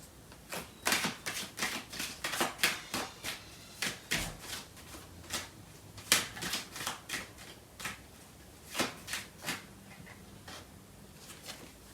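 Tarot cards being shuffled and drawn during a love reading, heard as a steady run of close, crisp riffling and slapping card sounds in quick irregular bursts with no talk.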